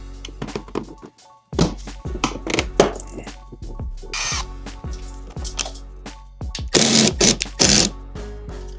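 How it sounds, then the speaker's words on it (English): A ratchet works a screwdriver bit loose in a tight spot on a Volkswagen Jetta, making close metallic clicks and knocks in irregular bursts with short pauses between them. "I know I'm using a ratchet to get a screwdriver bit out"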